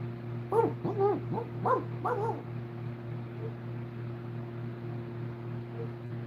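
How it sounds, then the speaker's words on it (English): A dog gives a few short yips and barks in quick succession near the start over a steady electrical hum, then falls quiet while the hum continues. "There's Canela barking right now."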